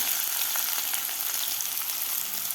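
Finely chopped onion fries in hot oil in a kadhai for a chicken curry, a dense, even, close crackling sizzle that holds steady throughout with no voices.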